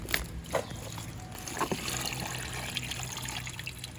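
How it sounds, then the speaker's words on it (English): Hot water poured away, trickling and splashing in a steady stream after a few sharp knocks and clinks at the start, moderately loud with no speech. "let's get this and pour the water away"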